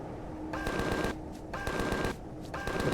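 Sci-fi weapon fire in the survival game Empyrion: Galactic Survival, three sustained bursts of rapid automatic shots about half a second long each, separated by brief gaps, loud and close with a faint tonal whine under each volley.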